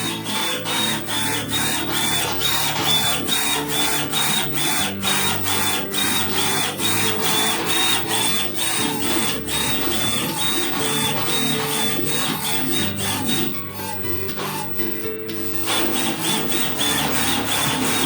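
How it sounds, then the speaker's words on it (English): Desktop and industrial-grade UV printers run side by side while printing golf balls, giving a steady, loud mechanical whirring with dense rhythmic ticking and clicking that holds throughout and thins briefly near the end. "Okay, both of the printers start to print out."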